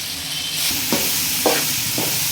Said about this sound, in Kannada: ಬೀನ್ಸು, ಬೇಳೆ, ಕೋಸು ಎಲ್ಲ ಬೇಯಿಸಿಟ್ಕೊಂಡಿದ್ವಲ್ಲ ಹಾಕ್ಬಿಟ್ಟು ಇದನ್ನು ಚೆನ್ನಾಗಿ ಹುರ್ಕೋಬೇಕು ಕ್ಲೀನಾಗಿ.